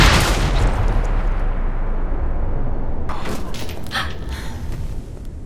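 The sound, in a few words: gunfire in the video game Alpha Protocol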